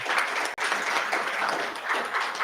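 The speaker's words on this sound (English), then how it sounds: "Please give another round of applause." An audience at a democracy celebration event applauds with steady, dense clapping that fills the room, sustained throughout with a brief dip midway.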